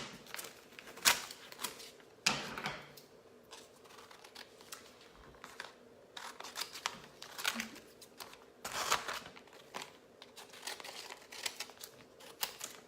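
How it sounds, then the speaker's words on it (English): A scraper smoothing vinyl onto a tumbler, producing soft intermittent scratchy rubbing strokes and light crinkles at close range, fairly quiet. "Use my scraper to just get it down a little bit nicer."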